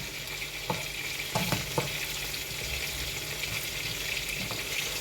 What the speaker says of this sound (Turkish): Şöyle bu kavrulacak arkadaşlar